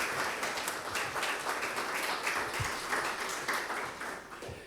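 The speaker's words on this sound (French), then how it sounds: "On peut applaudir." Applause from an audience at the closing session of an international weather forum: steady, dense clapping filling the room at moderate volume for several seconds, with no voices over it.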